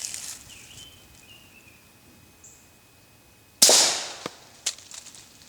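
Two suppressed 9mm shots of HPR 147 grain ammunition fired through an Octane suppressor outdoors: a sharp loud crack with a decaying tail, then a second crack about a second later over quiet background with faint birdsong.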